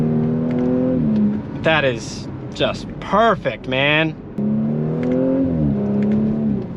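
A B9.5 Audi S4 engine hums steadily inside the cabin, rising in pitch under acceleration, partly covered by someone speaking in the middle.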